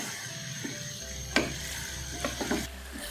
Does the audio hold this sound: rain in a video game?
no